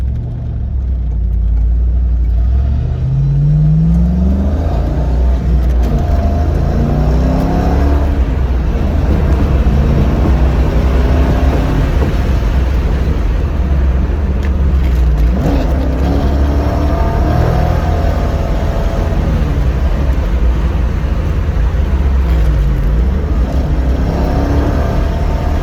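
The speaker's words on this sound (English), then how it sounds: "let's accelerate the cars through the corners a little bit" A Corvette C5 Z06 with new motor mounts accelerates hard out of corners, its V8 roaring loudly and continuously as revs climb and fall through repeated gear pulls, with heavy road and wind noise and no talking.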